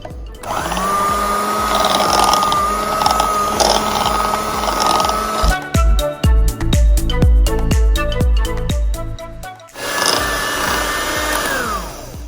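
Electric whisk mixing cookie dough whirs with a loud, steady motor whine, cuts out midway for a stretch of rhythmic clattering and knocking, then starts up again and runs steadily to the end.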